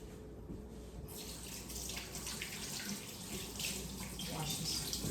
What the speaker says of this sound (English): wash this a little bit off my hands